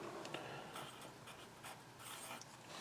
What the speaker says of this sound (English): So let me go ahead and write that down.